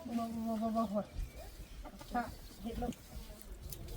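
Domestic village chickens cluck with a few harmonic calls in the first second, then scattered shorter clucks, close by and moderately loud, while people talk in the background.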